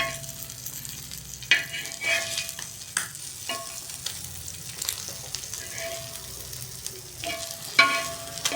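Fish fry sizzling in a pan, a continuous crackling hiss broken by several sharp clinks and scrapes of a utensil, close by with no talk.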